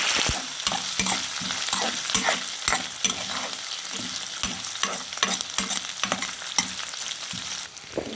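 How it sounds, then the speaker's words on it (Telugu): Green chillies, dried chillies, ginger and curry leaves frying in hot oil, a continuous close sizzle with steady rhythmic clicks of a spoon stirring through it. "ఇవి కూడా నూనెలో అయితే వేసేద్దాం పచ్చిమిరపకాయలు ఎండుమిరపకాయలు అల్లం కరివేపాకు"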